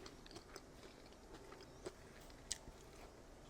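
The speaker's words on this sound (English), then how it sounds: "You'll have to listen to me munching again" Close, quiet munching on chicken nuggets and tater tots with ketchup and Polynesian sauce during a late-night Coral Island game session, with soft irregular bites and a couple of sharper crunchy snaps.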